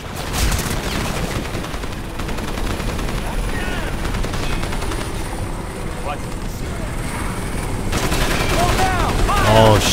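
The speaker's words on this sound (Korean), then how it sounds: "헬기, 헬기 또 왔어?" A helicopter closes in amid bursts of rapid automatic gunfire and scattered shots during a Crysis firefight, the loud rotor drone rising toward the end while someone talks over the din.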